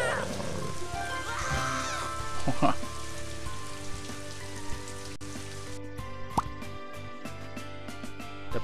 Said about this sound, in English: Make it rain.